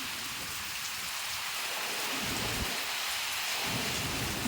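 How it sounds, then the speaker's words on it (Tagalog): Strong typhoon wind roars with heavy rain hissing continuously, low thunder rumbles rising and falling beneath the downpour. "Sobrang lakas na ng hangin guys."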